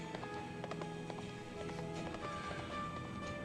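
A unicorn's hooves clip-clop in a steady galloping rhythm in the Gabriel Knight 3 video game, fairly faint and even beneath a constant hum of game ambience and music.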